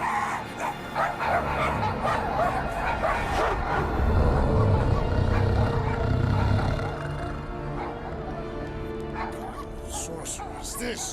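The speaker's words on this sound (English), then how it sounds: "Why they barking, bro? What the hell? They're losing their minds." Dogs bark in the Guardians of the Galaxy video game on PS5, a busy chorus of yaps and whimpers running through the whole stretch over game music and effects, with talk layered on top.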